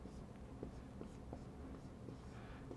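A pen or marker writes on a board with short scratchy strokes in an even rhythm, faint and close over a low background hum.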